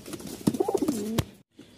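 A pigeon at a Mirpur pigeon seller's gives one short, close, throaty coo, rising and then trailing off. No other sounds or voices accompany it.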